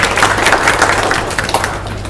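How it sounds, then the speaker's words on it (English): A small audience at a Buddhist gathering claps for a returning guest, a brief burst of close, scattered handclaps with some thuds, fading out after a couple of seconds. "Come, clap."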